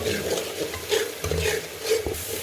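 Biryani masala spices stirred and fried in ghee for shahi chicken pulao, with a constant close sizzle and repeated scraping strokes of a spoon through the pan.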